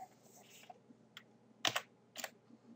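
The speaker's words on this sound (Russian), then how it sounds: "Ввожу вот эту капчу." A few quiet keystrokes on a computer keyboard while entering a captcha, scattered soft clicks with a short cluster of louder taps near the middle and end.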